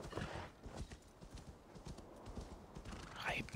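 Horse riding in the video game Assassin's Creed Valhalla, with steady clip-clop hoofbeats and a brief whinny near the end, all fairly quiet beneath a busy game soundscape.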